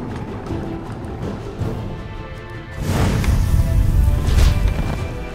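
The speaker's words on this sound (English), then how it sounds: "Run them over with the flame tank." Flame tank crushing enemy units in the fantasy strategy game Age of Wonders 3: heavy crashing and rumbling impacts swell in after a quieter start, with a rushing, whooshing burst and louder thumps near the end.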